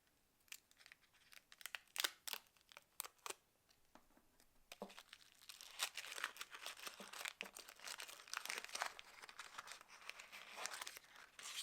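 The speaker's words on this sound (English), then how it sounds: "let's actually unwrap one and see what it's like inside." Packaged washi tape is unwrapped by hand, giving close, quiet crinkling and tearing of wrapping: scattered sharp rips at first, then a steadier rustle of crumpling plastic or paper with no one talking.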